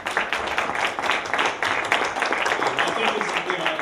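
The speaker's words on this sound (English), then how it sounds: "Let's give them a round of applause" Audience applause for a panel at a college discussion event, a steady wash of many hands clapping, moderately loud and sustained with slight swells.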